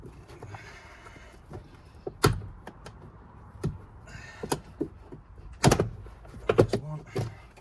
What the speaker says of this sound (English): So opening both of the doors to be able to gain access to these parts.